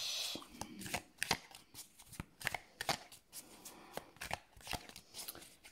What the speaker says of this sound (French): Allez chercher deux cartes.